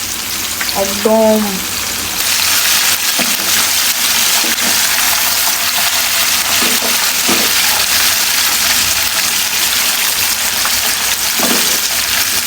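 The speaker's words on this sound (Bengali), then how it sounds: "আমি এখন উল্টে পাল্টে ভেজে নেব চিকেন ফ্রাইগুলো" KFC-style fried chicken pieces sizzle steadily in hot oil as they are turned, with a loud, continuous crackle and a brief spoken word near the start.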